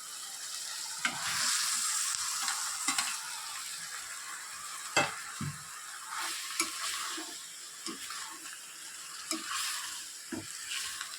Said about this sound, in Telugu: ఇప్పుడు కట్ చేసి పెట్టుకున్న బీరకాయ ముక్కలు కూడా అందులో వేసేస్తున్నాను